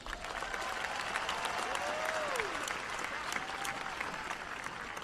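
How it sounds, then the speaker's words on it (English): A large commencement crowd at a university graduation gives a steady, sustained round of applause, heard from a distance as a continuous hiss of many hands, with a faint tonal whine running through it. "Would you please give all the students a round of applause?"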